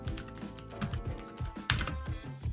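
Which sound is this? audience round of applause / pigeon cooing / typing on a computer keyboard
typing on a computer keyboard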